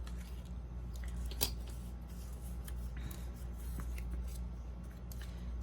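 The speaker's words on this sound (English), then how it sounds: "a lot of times I like to just cut circles out of them" Scissors cut circles out of leftover paper scraps, giving soft, close snipping and rustling at an irregular pace with no talk.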